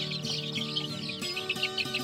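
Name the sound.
chickens clucking while chicks are separated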